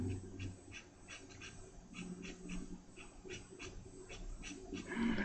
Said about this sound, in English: his mom's dog is barking up a storm now